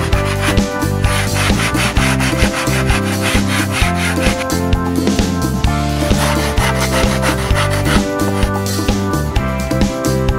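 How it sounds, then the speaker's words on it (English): A balsa wood model pylon racer fuselage has its sides trimmed with a cutter and smoothed with sandpaper, giving steady, close back-and-forth rubbing and scraping strokes in an even rhythm. "Trim the sides of the fuselage using a cutter and sandpaper."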